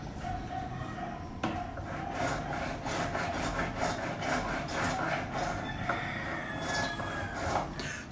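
Guitar frets being crowned with a file, a steady run of rhythmic rasping strokes close by, continuing throughout without talk.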